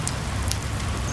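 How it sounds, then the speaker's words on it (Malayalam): Heavy rain falls outside in a steady, loud, close hiss, with a few sharper drop patters on a surface. "പുറത്ത് നല്ല മഴ പെയ്യുന്നുണ്ട്"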